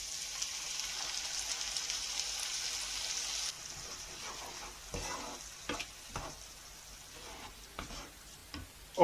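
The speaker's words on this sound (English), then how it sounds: "now I add 400 grams of tomatoes" Tomatoes, 400 grams, hit a hot pan of softened onions while making Sicilian pizza sauce, giving a steady close sizzle with stirring clatter and scraping; the sizzle is brightest at first, then eases into intermittent stirring noises.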